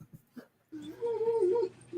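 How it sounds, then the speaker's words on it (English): A dog whimpers in short yips, then lets out a drawn-out, wavering whine close by, ending with another brief whimper. "Dogs are going crazy."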